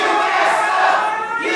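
A wrestling event crowd roars and cheers loudly in a dense, continuous wash of voices that stays steady throughout the brief moment.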